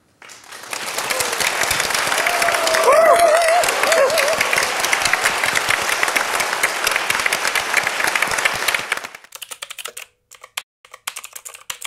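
A crowd applauds to welcome the South Korean president, loud sustained clapping for about nine seconds with a brief whistle, then stopping abruptly into a few scattered claps and near silence.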